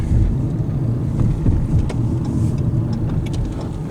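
A motorbike ridden by a girl passes steadily along a road, its engine a continuous mid-pitched drone with some wind buffeting on the microphone, holding fairly constant loudness throughout.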